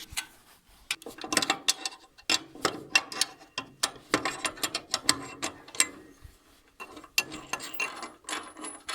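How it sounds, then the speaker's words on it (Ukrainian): Ratchet wrench clicking in quick bursts while loosening bolts on a hitch attachment for a Yanmar walking tractor, close and fairly loud, with short pauses between runs of rapid ticks and no talk. "Зараз що Потрібно тільки попустити ось ці болти."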